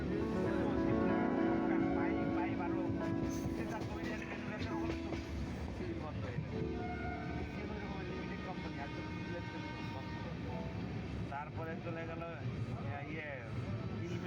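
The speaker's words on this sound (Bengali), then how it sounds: "আমাদের ট্রেন এইমাত্র বর্ধমান জংশনে ঢুকলো" A passenger train rolls into Bardhaman Junction, with a steady rumble and wheel clatter on the rails throughout while a voice talks over it.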